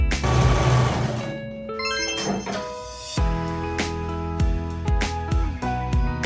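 A sewing machine runs through topstitching on an unlined jacket, whirring in a steady stretch, then stopping and restarting in short bursts with soft mechanical clunks between runs.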